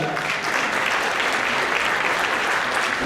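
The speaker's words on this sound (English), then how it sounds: "You can applaud for that" A comedy club audience breaks into loud, sustained applause for a comedian, dense clapping filling the room steadily for a few seconds without a break.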